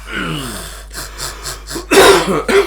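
A person coughs and clears their throat several times in short bursts, close and fairly loud, with breathy sounds in between.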